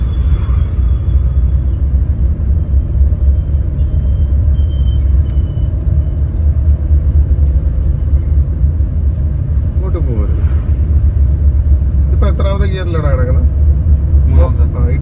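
A learner car moves steadily during a driving lesson, its engine and road rumble droning loud and constant throughout while an instructor talks over it.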